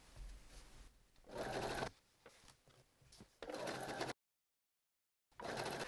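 A sewing machine stitching herringbone tape for bunting, running in steady motor bursts of varying speed, close and clear, with a short silent gap before it starts again.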